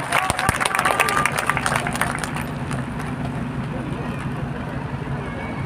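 A crowd clapping at a political rally in Sasaram, a dense patter that is strongest at the start and then thins into a steady crowd murmur, with someone speaking loudly over it.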